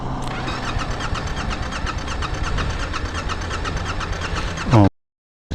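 A motorbike engine held at full throttle roars loudly and steadily at close range, surges briefly near the end, then cuts off abruptly into silence.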